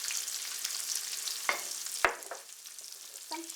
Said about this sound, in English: And stir fry for a few minutes or maybe a minute